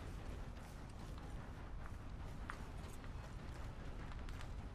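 Horse hoofbeats in Red Dead Redemption 2 during a legendary elk hunt, a steady soft clip-clop rhythm low in a busy, noisy in-game mix with no talk.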